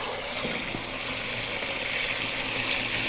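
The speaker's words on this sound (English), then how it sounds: "some garden water, just a little bit to cover them." Garden water pours steadily into a dunk tank, a continuous hissing, splashing gush that stays close and even throughout, with no talking.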